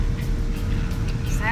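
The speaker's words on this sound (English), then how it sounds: "But that's a badass tractor." A tractor engine drones in a brief, steady low rumble beneath a talking voice.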